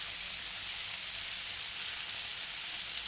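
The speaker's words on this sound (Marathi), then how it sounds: "चारी बाजूने पट परतत परतत आपण हे सगळे चिकनचे तुकडे जे आहेत ते ब्राऊन रंगावर येईपर्यंत" Chicken pieces brushed with butter are pan-fried until browned for restaurant-style butter chicken. The sizzle is dense and steady, a loud constant hiss with no pauses and no talking.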